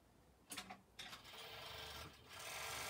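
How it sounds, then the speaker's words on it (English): A sewing machine stitches fabric pieces together in short bursts, then runs more steadily, with light handling rustles in between; quiet and close, no speech. "And I am going to stitch that together."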